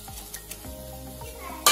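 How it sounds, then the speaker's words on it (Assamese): Three fish drop into a simmering Assamese sour curry made with chengeri tenga, giving a steady, moderate sizzle and bubbling with a sharper clatter at the very end; no talking. "অলপ উতলিলে মই মাছ তিনিটা এতিয়া দি দিম"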